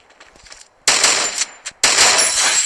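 Automatic gunfire in the Free Fire video game crackles through sharp, loud bursts, with a faint patter first and then two heavy volleys that break briefly between them.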